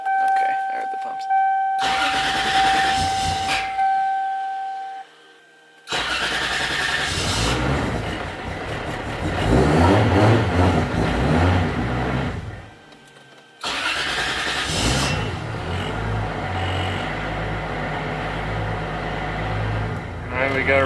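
A Toyota Supra engine cranks in several loud, close attempts separated by short pauses, catches, and settles into a rough running idle with occasional revs.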